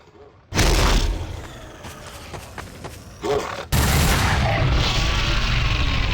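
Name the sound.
gunfire with normal bullets in the video game Garry's Mod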